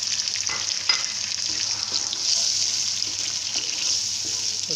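Onion, ginger, garlic and tomato for daal maash fry in a pan with a steady, moderately loud sizzle and a few faint stirring scrapes, with no talking over it.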